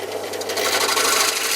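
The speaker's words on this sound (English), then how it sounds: "and then turn on the drill" Drill boring through wood, a close rough grinding rasp with rapid pulsing texture that grows louder as the bit bites in and holds steady.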